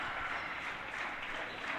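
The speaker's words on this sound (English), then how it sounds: "the fans in attendance applaud each team" Fans applauding at a boys' varsity basketball game in a gym, a continuous wash of crowd clapping, steady and somewhat distant, with a faint voice underneath.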